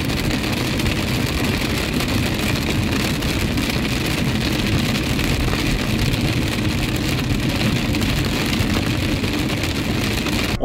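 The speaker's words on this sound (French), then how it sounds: "il pleut des cordes" Heavy rain drums on a camper van in Switzerland, a dense, constant, loud roar of drops on the roof with no let-up across the whole stretch and no voices.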